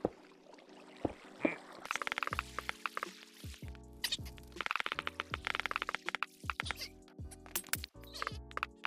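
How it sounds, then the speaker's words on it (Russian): Glass blocks set one after another over a water channel in Minecraft, producing rapid crisp clicks and cracking taps in irregular bursts, close and fairly loud over a faint tonal hum. "Закрываем сверху канал стеклом."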